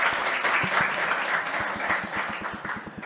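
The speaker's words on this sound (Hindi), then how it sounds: "जोरदार तालियां जो है इनके लिए हो जाए" An audience claps steadily throughout at a Navratri talk, a dense, continuous round of applause with no voices over it.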